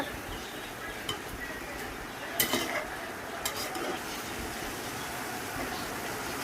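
Chicken being stirred with turmeric and chicken masala in a pan for a home-style curry, giving soft scraping spoon strokes with a few louder clinks against the pan over a faint low sizzle.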